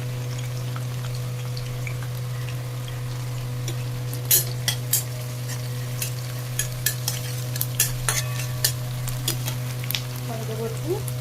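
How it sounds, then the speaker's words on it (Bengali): Okra (bhendi) frying in oil in a pan, a steady hum under scattered sharp clinks as a utensil stirs it, close and mid-loud, without speech. "চলো দেখতে থাকো, ভেন্ডিগুলো ভাজা হোক"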